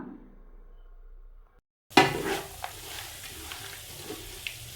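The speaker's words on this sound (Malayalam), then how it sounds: "ഇനി ചുക്കും ഏലക്കയും ജീരകവും കൂടെ പൊടിച്ച് വെച്ചിരുന്നതോടെ അതിലേക്കിട്ട് ഇളക്കി കൊടുക്കാം." Flattened rice mixed with jaggery syrup and ground dry ginger, cardamom and cumin is stirred in a pan, a soft sizzle and scraping starting abruptly after a near-silent gap, with occasional sharper utensil scrapes.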